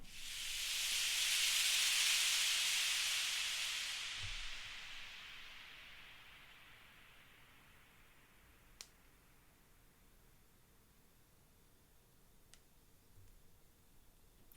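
A bright, hissing shaker burst swells and then fades into a long, washy reverb tail that lingers for many seconds, with a few faint clicks.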